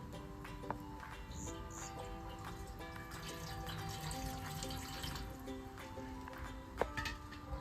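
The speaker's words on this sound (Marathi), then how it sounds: "या परातीमध्ये काय करू आपण असं पाणी टाकू" Water pours into a metal plate (parat) in a rustic outdoor kitchen, a steady splashing and trickling stream with faint ringing tones from the metal and a sharp clank near the end.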